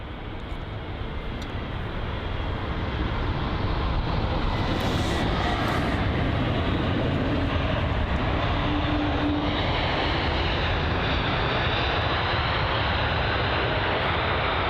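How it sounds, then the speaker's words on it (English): A JetBlue airliner arriving from New York JFK comes in to land at London Heathrow, its engines a loud, steady broadband roar that holds throughout with a slight swell in the middle, no voices over it. "just like this one, the JetBlue, arriving from New York JFK"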